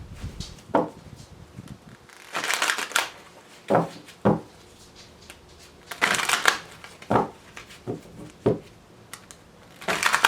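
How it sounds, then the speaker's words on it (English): A deck of tarot cards is shuffled several times in bursts of riffling and soft taps, close and quiet, with pauses between. "Two more shuffles"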